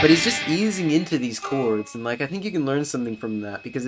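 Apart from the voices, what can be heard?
None of the usual background noises is heard.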